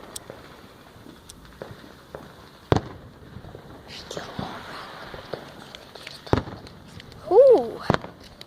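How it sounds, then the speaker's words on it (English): Fireworks and firecrackers go off at scattered moments on street corners, several sharp bangs spread across the scene, with faint crackling, footsteps and people talking in between. "There's fireworks in every corner."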